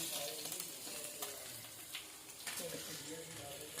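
Fish pieces sizzle and crackle steadily in hot oil, a continuous close frying hiss with small pops and faint stirring throughout.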